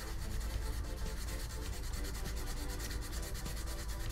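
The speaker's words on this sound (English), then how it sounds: "I'm just going to sand that off" Blue tape being sanded off a 3D-printed prototype magazine by hand, a loud close continuous rhythmic rasp of strokes running without a break and no talk.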